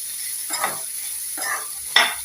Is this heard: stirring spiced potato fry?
yes